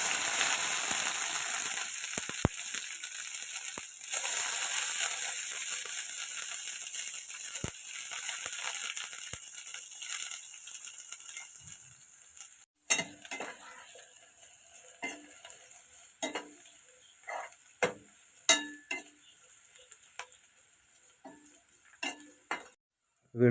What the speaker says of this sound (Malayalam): അത് മൂത്ത് കഴിയുമ്പോൾ വെളുത്തുള്ളിയും ചെറുതായി അരിഞ്ഞ ഇഞ്ചിയും ചേർത്ത് വഴറ്റിയെടുക്കുക